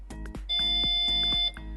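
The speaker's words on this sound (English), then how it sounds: "press and hold the button until it beeps" A single sustained electronic beep from a Tesla Model S trunk button, lasting about a second, bracketed by a few soft mechanical clicks and thumps.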